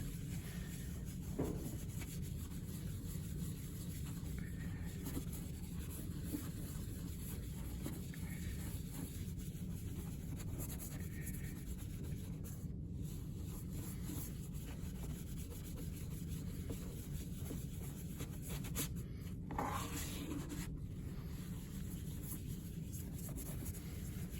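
Paper or fabric rubs steadily over an engraved plastic printmaking plate to wipe off ink, giving a soft, continuous scuffing close up with a few louder swipes and no talk.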